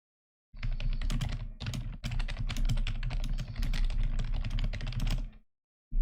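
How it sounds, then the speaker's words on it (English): Rapid, continuous clicking of keys on a computer keyboard while typing a message during an online Magic: The Gathering Pioneer match, close and steady, with a brief pause midway and no talking. "I was typing out a message to our opponent"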